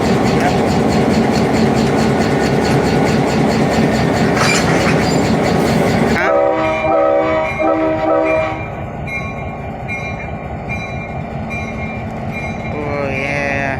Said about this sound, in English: This is the first time I'm seeing a train couple up to a car.